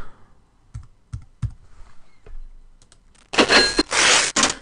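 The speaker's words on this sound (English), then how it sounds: "this is them entering their password" Rapid keystrokes on a computer keyboard as a password is typed, a few separate clicks first and then a dense, loud burst of clattering typing near the end.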